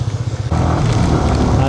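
A motorbike is ridden in the rain, its engine note jumping up after a short lull and then holding a loud, steady drone close by.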